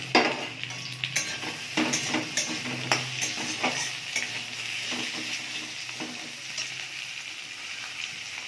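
Potatoes sizzle and fry in a pan while a spatula stirs and scrapes them, producing a steady close hiss broken by clinking utensil strokes, with no talking.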